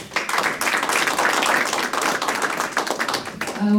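An audience at a Northeast Asia peace conference breaks into dense, sustained applause, close and loud, with a brief tone at the end.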